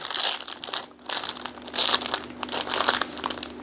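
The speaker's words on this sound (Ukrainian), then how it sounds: "О, ну зараз спробую розпакувати." Plastic packaging around a parcel of hand warmers crinkles and crackles up close as it is unpacked, in repeated bursts with brief pauses and no talking.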